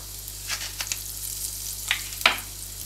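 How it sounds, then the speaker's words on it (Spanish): Chopped garlic and two chili peppers frying in olive oil for patatas bravas, giving a few sharp sizzling bursts over a steady low kitchen hum, with no talking. "Ahora ponemos 2 cucharadas soperas de aceite de oliva e incorporamos un ajo picado y 2 guindillas"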